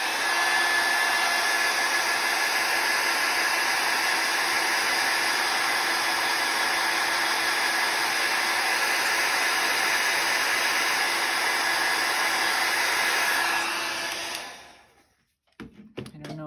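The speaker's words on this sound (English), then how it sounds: "I am going to use the heat tool just to kind of hopefully dry that a little." A craft heat tool blows hot air to dry a book page charm, a loud, steady whooshing hiss held without a break for about fourteen seconds before cutting off abruptly, followed by a few faint handling noises.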